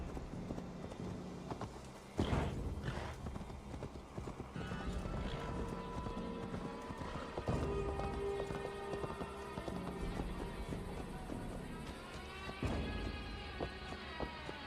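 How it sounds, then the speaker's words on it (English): Horse hooves in the video game Assassin's Creed Valhalla, rhythmic clip-clop of a galloping then slowing horse alongside an occasional whinny, game music and ambient effects, with faint talk in the background. "Good thing the horse doesn't keep running when you get off them."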